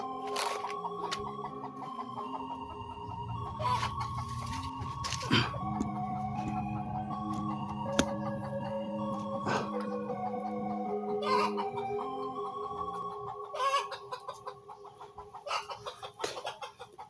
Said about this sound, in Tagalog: napakaingay ng manok na to